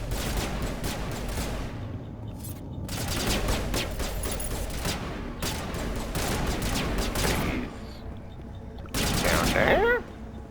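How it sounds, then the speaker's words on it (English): Sustained gunfire in the Mass Effect video game, dense bursts of rapid shots and rattling fire running almost continuously, with brief lulls and a louder burst near the end. "What are you guys shooting at?"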